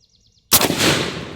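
A suppressed Anzio 20mm sniper rifle fires once outdoors, a single sudden loud blast that follows a near-silent lead-in and leaves a long, broad rumbling decay.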